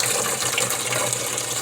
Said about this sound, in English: Water going into a container.